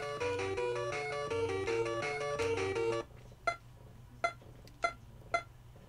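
Four sharp electronic beeps from the NES game River City Ransom, spaced out and fairly loud, following a chiptune melody that cuts off abruptly.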